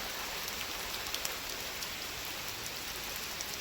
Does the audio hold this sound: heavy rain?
yes